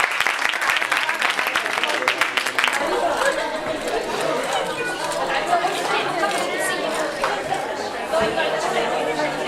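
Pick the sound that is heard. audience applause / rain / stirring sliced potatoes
audience applause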